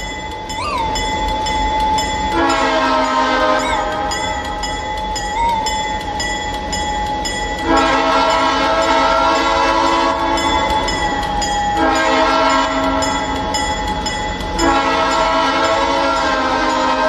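A snow plow train on the Edison Valley Railroad rumbles past steadily in snowy weather while its horn sounds in several long, loud blasts, close by and dominating the scene.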